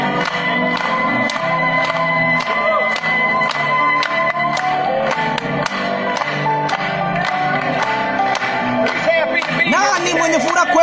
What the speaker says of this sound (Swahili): Hebu tumpigie makofi kwa mara nyingine tena.